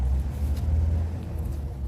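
Road traffic passing near a wet garden after rainfall, heard as a steady low rumble of cars and engines with no one talking.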